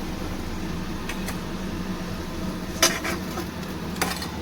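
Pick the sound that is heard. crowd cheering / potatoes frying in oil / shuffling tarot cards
potatoes frying in oil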